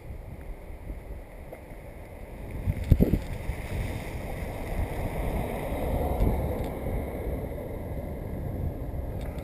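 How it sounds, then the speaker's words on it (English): Wind gusts buffet the microphone outdoors during a drone flight test, a loud broadband rush that swells and thumps unevenly, with no voices. "Pretty windy."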